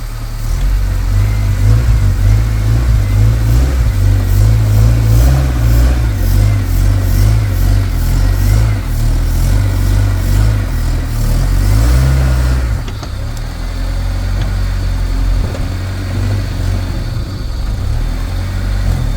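A manual-transmission car's engine hums and revs steadily in first gear while driving up onto car ramps, a loud close mid-pitched drone that drops off and settles to a lower idle partway through.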